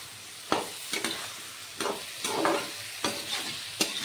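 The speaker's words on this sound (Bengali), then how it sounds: "নুন দিয়ে ভালো করে মশলাটাকে ভেজে নেব" Spice masala with ground cumin and salt frying in a pan for a fish curry with potatoes, with a steady sizzle broken by several sharp scraping stirs of a spoon at irregular intervals, close and alone without voices.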